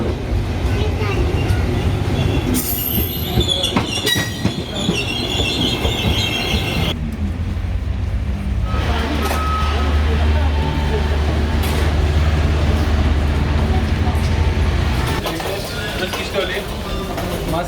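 Loud, steady rumble of a train in a railway station building in Tunisia, with metallic screeching of wheels and clattering, a low engine drone running through the middle.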